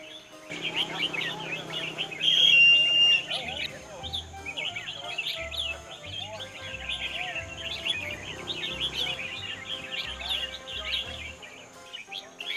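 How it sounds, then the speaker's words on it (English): Songbirds trill and chirp in dense, continuous bursts at a live bird singing competition, with a low rhythmic thumping underneath and faint crowd sounds around the singers. "Bird singing competition."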